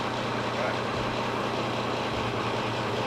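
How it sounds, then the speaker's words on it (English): Diesel engine of an ICE Tier 4 power unit running steadily after start-up, a continuous low rumble with broad mechanical noise that stays even throughout. "You'll let your engine run."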